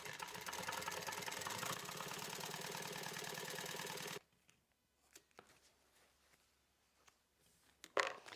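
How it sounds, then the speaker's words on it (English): Sewing machine stitching through foam while basting a crossbody bag's top closed, a steady dense mechanical whir running loud and continuous for about four seconds, then stopping abruptly, leaving faint handling noises and a brief rustle near the end. "And I am sewing through the foam there."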